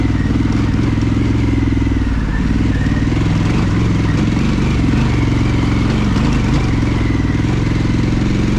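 Harley-Davidson Pan America motorcycle ridden off-road at steady throttle, a loud, close engine drone holding an even pitch with rough crackle and clatter from the terrain throughout.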